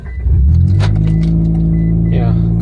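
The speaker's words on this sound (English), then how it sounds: "car starts fine now" A Mitsubishi Evo IX engine cranks and catches at once, settling into a loud, steady low idle close by, with a brief rattle of keys and a voice speaking near the end.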